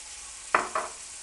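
Tofu and leeks in a pan hiss in a soft, steady fry, then two brief sharp sizzle bursts as splashes of soy sauce hit the hot pan.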